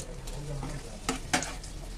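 Stuffed urad and chana dal kachori fries in a pan of hot oil, a continuous close bubbling sizzle with a couple of sharper scrapes or knocks against the pan.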